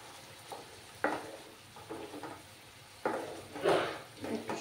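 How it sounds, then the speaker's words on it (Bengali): Ginger and garlic masala sautés in a pan, giving a faint sizzle broken by several bursts of stirring scrapes with no talking. "একটু সময় আমি কষিয়ে নেব।"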